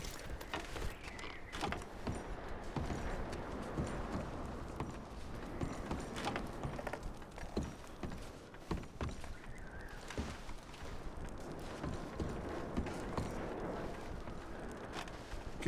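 Horses' hooves clop in an uneven plodding rhythm in Red Dead Redemption 2, moderately quiet, with faint creaks and background noise throughout.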